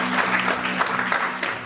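Congregation clapping hands together in a church service, a steady dense patter close by that fills the whole short stretch, with a faint hum underneath.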